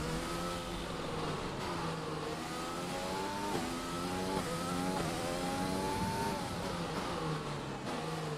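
Racing car engine in F1 2020 revs continuously, its pitch climbing through repeated upshifts and dipping on downshifts, loud and steady across the whole stretch with no talk.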